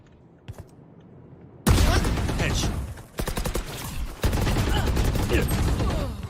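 Rapid bursts of gunfire from a shooter video game, loud and close, with sustained automatic fire broken by short gaps and a few single shots at the start.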